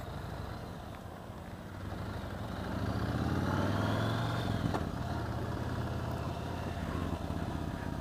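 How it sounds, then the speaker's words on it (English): V-twin motorcycle exhaust rumbles steadily at a trade show, swelling slightly louder midway as the engine revs a little, then settling back to a throaty idle. "Great exhaust noise."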